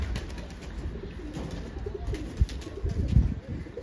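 Soft, low cooing of young Ankara tumbler pigeons close by, a few murmuring coos rising near the end over a faint background hum.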